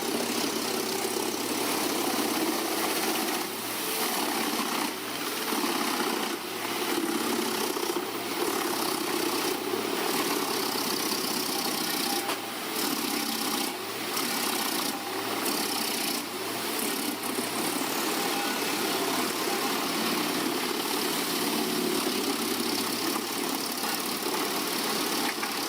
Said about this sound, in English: Wooden tree trunks, once formidable in their natural state, succumb to the 8010C's prowess, emerging on the other side as neatly processed wood chips.